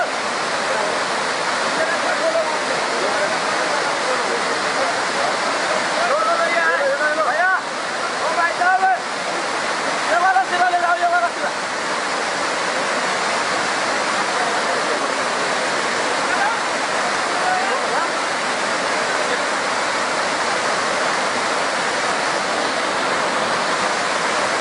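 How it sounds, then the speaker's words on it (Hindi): Rising floodwater rushes in a loud, constant torrent with a steady roar throughout, while voices shout briefly over it partway through. "पानी बढ़ गया भाई, पानी बढ़ रहा है"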